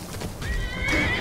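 A horse in Skyrim gives a whinnying neigh during a skeleton fight, the rising call carrying over hoofbeats and ambient game noise.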